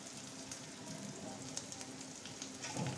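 Spices with chilli powder sautéing in a pan give a steady, even sizzle with faint stirring scrapes, close and continuous throughout.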